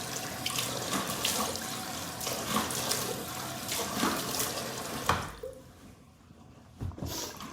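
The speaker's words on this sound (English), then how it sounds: "Sorry, I'm going in to rinse this off." Tap water runs steadily into a sink while face cleanser is rinsed off, a continuous close splashing that breaks off near the end, followed by a few drips and splashes.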